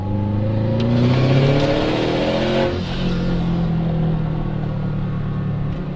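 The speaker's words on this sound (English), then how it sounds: "When you get in that wastegate, it lets you know right away." A turbocharged Subaru engine with an external wastegate revs hard and climbs in pitch, then drops sharply as the throttle lifts and settles into a loud, rumbling idle.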